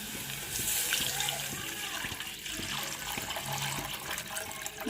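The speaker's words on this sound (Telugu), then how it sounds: "మన దగ్గర వాటర్ పోసుకున్నామండి" Water poured into a cooking pan of frying ingredients, a steady close splashing and gurgling stream that runs for several seconds, with faint voices in the background.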